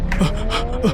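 A car speeds toward a woman, its engine and tires giving short rising and falling bursts across a single second, loud and close, with a brief gasp-like sound partway through.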